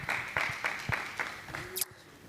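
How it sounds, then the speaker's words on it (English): Audience applause at a tech talk: a thin, uneven patter of clapping from a small crowd that fades out over about two seconds. "Round of applause for Tumi."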